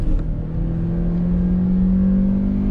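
A Hyundai i20 with a naturally aspirated 1.2 MPI engine accelerating in second gear, a loud, close, steadily rising engine drone heard alone with no talk.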